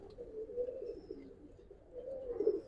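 A Giribaz pigeon, a traditional Old Dhaka breed, gives a soft, low, rolling coo that swells twice over a brief stretch, near but faint, with no voices.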